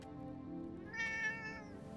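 A cat meows once in the video game Forspoken, a clear drawn-out mew rising out of a low ambient game background.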